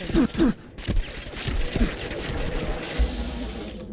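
Laser musket shots in Fallout 4, a few sharp blasts followed by rapid crackling gunfire and a lingering energy hum, loud and near.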